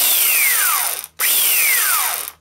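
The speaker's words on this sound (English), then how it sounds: "Here's my next favourite sanding tool, which is a Black & Decker power file, which is like a little belt sander." A Black & Decker power file, a small belt sander, whirs in two bursts, each spinning up and then winding down, loud and close, with a short pause between them.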